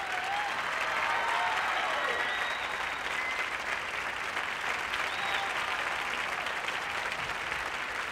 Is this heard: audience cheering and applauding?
yes